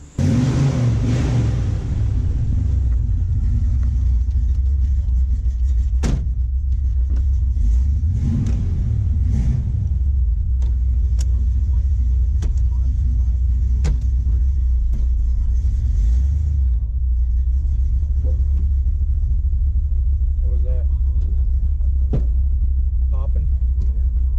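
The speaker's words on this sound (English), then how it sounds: "got the Caltracs on it, subframe connectors, and about to take it for a little test drive." A Chevrolet Nova fitted with Caltracs traction bars and subframe connectors rumbles on a test drive, its engine a loud, steady low drone from inside the car, with scattered clicks and knocks and some talk over it.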